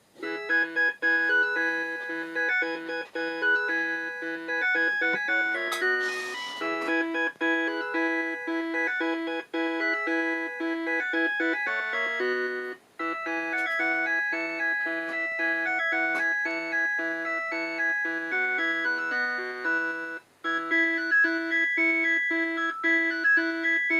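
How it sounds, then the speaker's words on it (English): A bright, beepy synthesized melody from a Macintosh Plus plays continuously, chiming electronic tones in a steady classical tune, Vivaldi's Spring, with a brief burst of noise near the start. "it's really fun to hear the computer kind of sing the songs"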